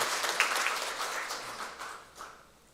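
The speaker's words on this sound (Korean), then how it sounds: "우리 박수로 환영하겠습니다" A church congregation applauds during a Sunday service, the clapping fading gradually over a few seconds.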